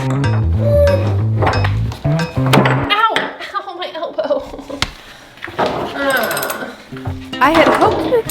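Metal tool being tapped into a stuck bathtub drain during a bathroom renovation, a run of sharp close metallic knocks and clinks in irregular bursts, with a person talking between them.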